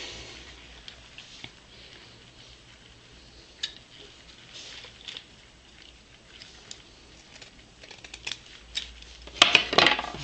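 Scissors snipping ribbon bows while assembling a handmade Christmas wreath, quiet intermittent cuts scattered through the clip, building to a cluster of sharper clicks near the end.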